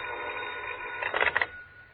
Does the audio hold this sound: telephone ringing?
yes